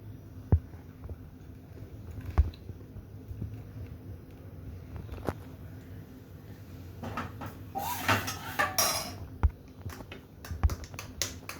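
A spoon clinks against a cup of hot chocolate in a quiet kitchen, with sparse, light metallic taps scattered across the clip and a quick flurry of clinks near the end.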